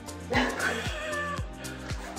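House cats give a few soft, faint meows in a quiet indoor room, with a low rhythmic thumping running underneath.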